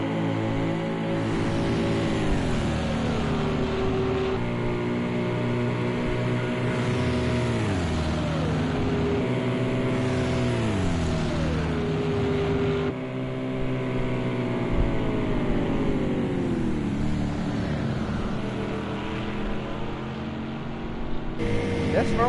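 A Ferrari race car in an endurance race at Rouen, its engine note climbing and dropping through repeated gear changes as it passes at close range, loud and continuous with commentators talking over it.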